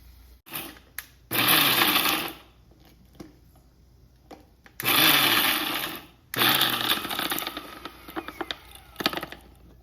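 A mixer grinder coarsely grinds bottle gourd yogurt chutney in three loud whirring bursts separated by short pauses, with a few softer knocks and rattles toward the end.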